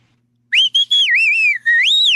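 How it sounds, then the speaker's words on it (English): A person whistles a short, loud, clear melody alone after half a second of silence, with the tune rising and falling across several connected phrases. "I can whistle with the best of them."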